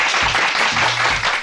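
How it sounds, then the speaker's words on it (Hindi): Audience applause and clapping at a Hindi stand-up comedy or political satire show, a short steady burst of many hands filling the room, loud and continuous. "बजाओ ताली"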